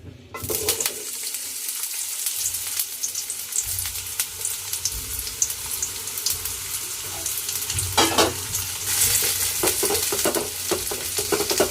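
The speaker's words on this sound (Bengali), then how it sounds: "তেলটা একটু হালকা গরম হলে দিয়ে দিব দিয়ে দিব কেটে রাখা পেঁয়াজের কুচি" Chopped onions frying in lightly heated oil in a pot, a steady close hiss and crackle with stirring scrapes, swelling into a louder sizzle midway.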